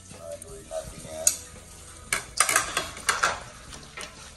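Alagaw leaves, garlic, tomato and onion frying in a pan are stirred, giving a steady sizzle broken by several sharp scrapes and clinks of a utensil against the pan, close and moderately loud.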